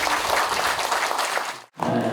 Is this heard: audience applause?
yes